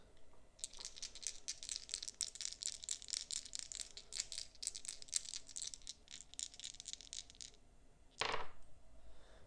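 Dice rolling in the Cthulhu Death May Die board game, a long rapid clatter of plastic dice tumbling across a surface, close and busy, ending with one sharper knock.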